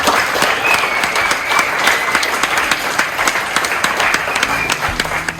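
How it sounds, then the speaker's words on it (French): A dense, loud round of audience applause fills the hall at a short-story competition ceremony at Lycée Frédéric Bazille, Agropolis, with rapid overlapping claps sustained evenly throughout and no voices over them. "Donc on peut faire un tonnerre d'applaudissements pour Madame Schlappi."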